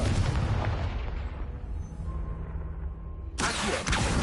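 A Confringo blasting spell goes off in Hogwarts Legacy: a loud, broad explosive burst that rumbles and fades over a couple of seconds, then a second sharp blast hits near the end.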